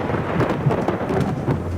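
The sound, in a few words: rain and thunder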